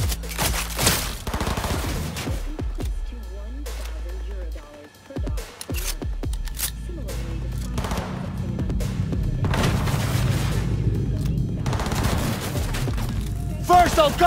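Gunfire in the shooter game Cyberpunk 2077: bursts of rapid shots and heavy booms crowd the first seconds, then scattered shots and thuds continue amid loud combat noise, with a voice shouting in between.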